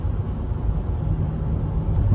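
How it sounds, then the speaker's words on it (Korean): Synthetic engine-like drone from the active sound design of a Genesis GV60 electric car, heard from inside the cabin while driving: a steady low hum that swells slightly toward the end, with no talking. "저희가 그 내연기관에서 익숙했던 그 엔진 소리 비슷한 소리를 해주는데 엔진 소리는 아닙니다."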